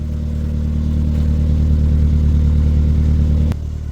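A 1985 Dodge Shelby Charger engine runs loud and close in a dirt-floored garage, holding a steady throbbing idle with a slight rise before cutting abruptly near the end.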